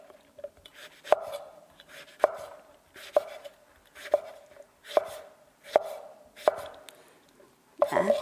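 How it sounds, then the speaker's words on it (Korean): A knife dices eggplant on a cutting board in a steady series of about nine crisp, evenly spaced chops, each with a brief slicing rasp, close and clear with no talking. "우선 가지를 깍둑썰기를 하라고 써 있죠."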